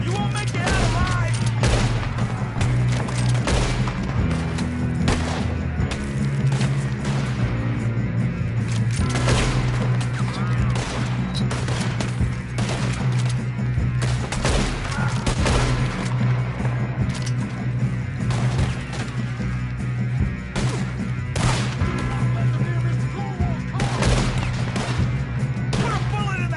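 Gunfire rings out nonstop in a Red Dead Redemption II shootout as loud, repeated shots and volleys crack over a droning game soundtrack, with character voices calling out between the bursts.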